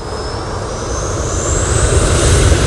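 Jet engines of a TUI Dreamliner airliner at Manchester Airport, a steady broad roar with a rising high whine that swells gradually as the plane draws nearer.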